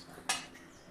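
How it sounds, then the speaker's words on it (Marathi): A kadhai (wok) set down on a stove while making traditional ukkad pendhi gives a single short metallic clank, close and fairly crisp, followed by quiet room tone. "आणि आता मी ठेवते कढई."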